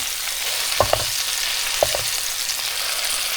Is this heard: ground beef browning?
yes